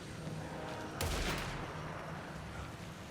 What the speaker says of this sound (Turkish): Bize mi sıkıyorlar? Bize sıkıyorlar.